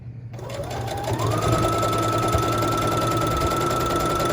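A domestic sewing machine stitches a bow tie quilt block seam, a close, steady mechanical whir that spins up quickly and holds an even, continuous rattle to the end.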